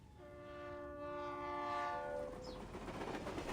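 Train ambience from the Reverse: 1999 game story, a long sustained horn chord swelling and fading over a rolling rail rumble, followed by rattling wheel noise, with no voices.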